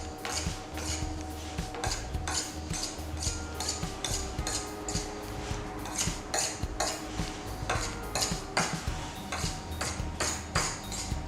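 Trimming excess pastry off a tart shell: a run of sharp metallic taps and scrapes, close and fairly quiet, repeating irregularly over a low background hum.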